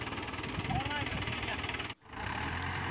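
A tractor engine runs steadily with a low, rough hum while its tyres are stuck deep in mud on a farm site. The engine drone continues throughout, with a brief dip near the end.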